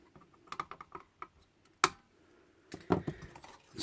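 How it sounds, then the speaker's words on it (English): Snips trim component leads after soldering, giving a series of small sharp clicks and snaps with one louder snip near the middle, close and fairly quiet. "Just trim those leads."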